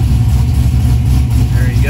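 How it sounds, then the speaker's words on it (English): An LS3 V8 swapped into a third-generation Camaro Iroc-Z idles loud and close, a continuous lumpy low rumble with slight rhythmic pulsing and a hint of rising revs near the end. "We'll just fire it up."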